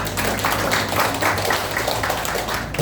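An audience at a volunteer team declaration gathering applauds an honoured guest with steady, dense clapping that holds throughout.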